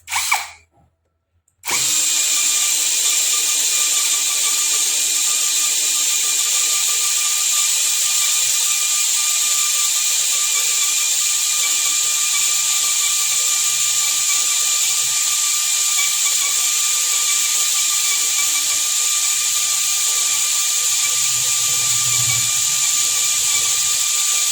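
Close, loud whine of a Nanwei cordless drill running steadily with an M42 cobalt bit, boring without a pilot hole; a short bump starts it, then a continuous high-pitched drone holds to the end.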